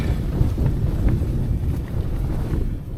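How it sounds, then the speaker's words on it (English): Strong, steady wind roars across a wintry mountain summit near Crag Hill, a continuous low buffeting rush hitting the microphone with no speech. "the wind's not let up yet"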